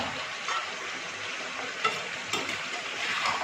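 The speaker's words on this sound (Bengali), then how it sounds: "তারও 2 থেকে 3 মিনিট নাড়াচাড়া করে নেব" Bottle gourd and shrimp curry being stirred in a pan, a steady close sizzle and bubbling with a few scraping knocks of the spoon, no talking.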